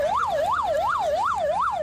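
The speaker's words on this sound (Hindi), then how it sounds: "इस बीच वहां एक एम्बुलेंस भी पहुंची" An ambulance siren wails in a highway traffic jam, a loud, close rising-and-falling tone that repeats about every third of a second without pause.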